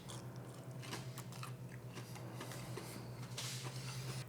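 Crunchy breaded chicken katsu being bitten and chewed close up, a series of quiet crisp crunches and chewing sounds with one louder crunch near the end.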